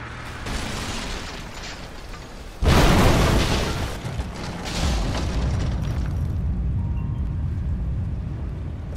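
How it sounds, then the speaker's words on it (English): A Greek fire explosion in Rise of the Tomb Raider blasts out the supports of an unstable statue, bursting in as a sudden loud boom over rumbling game ambience, with the roar lingering and then settling into a steady background rumble. "Looks like I'll have to use Greek fire."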